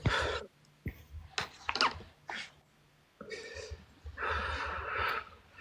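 Heavy, rough breathing right up against a microphone, a string of loud snorting inhales and exhales in uneven bursts, close and harsh, with no words spoken.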